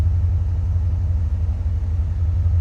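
A 1984 Chevrolet Corvette engine idles steadily with a deep, even exhaust rumble, recorded close from behind the car with no talking.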